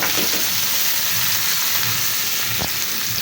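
Washed pumpkin goes into a pan of onions already fried brown, giving a loud, steady sizzle and hiss of frying that runs without a break, close up and with no voices.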